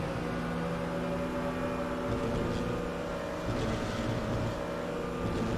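Race cars, an AMG and a BMW, run flat out at Spa in RaceRoom, giving a steady droning engine note with layered tones that rises and falls gently over several seconds and holds at an even level throughout.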